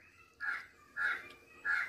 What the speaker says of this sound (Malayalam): നിങ്ങൾക്ക് മുമ്പേ കേൾക്കാമായിരുന്നു ഒരു കാക്ക അവിടെ നിന്ന് കിടന്ന് അലക്കുന്നത്